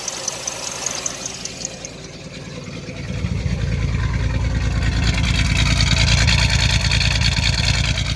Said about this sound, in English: And then the misfire's back.